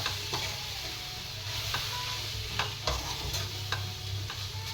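Chow mein and vegetables sizzle steadily in a pan over low gas while tongs stir and scrape in occasional close clicks against the metal.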